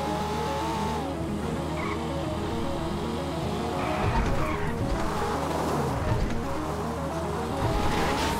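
A car in GTA Online driving hard with a steady engine drone, then bursts of tire squeal and skidding midway and again near the end, with no talk.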